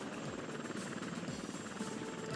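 Helicopter gunship rotor from the game Helicopter Gunship DEX, a steady, loud, close buzzing thrum with a rhythmic chop that holds unbroken from start to finish.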